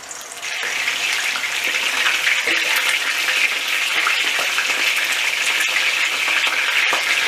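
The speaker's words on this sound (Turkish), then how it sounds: "Şimdi bunu iyice nar gibi olana kadar kızartacağız." Marinated chicken pieces fry in a pan with a loud, steady sizzle that continues evenly for about seven seconds, heard close and without any talking.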